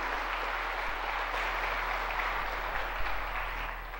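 A church congregation gives sustained applause during a sermon, a steady even wash of many hands clapping at once with a low hum beneath it.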